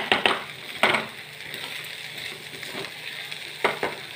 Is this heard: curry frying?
yes